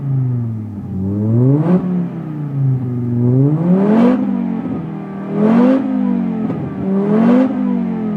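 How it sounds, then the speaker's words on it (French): A Renault five-cylinder engine revs repeatedly, rising and falling in several throaty surges with a smooth, close, loud drone and no talking. "un 5 cylindres, ça fait toujours un son de fou"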